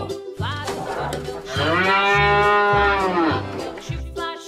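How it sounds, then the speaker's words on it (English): A cow moos loudly in one long, drawn-out low call, close and clear over a simple rhythmic backing beat in a children's animal-sounds song. "Cow."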